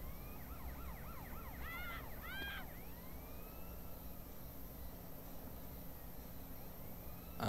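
Police car siren in the video game GTA San Andreas, a rising and falling wail that starts clearly and quickly fades into the distance as the car drives away, leaving a faint steady background hum.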